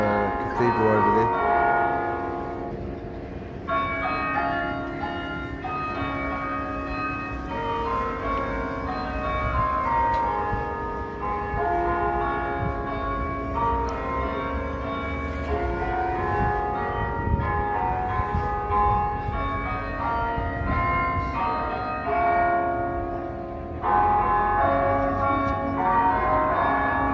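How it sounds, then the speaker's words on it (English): Cathedral bells ring across a plaza in Calama in the Atacama Desert, a dense sustained peal of overlapping tones that fills the whole stretch at steady loudness, with some talk mixed in. "The bells are ringing on the cathedral over there."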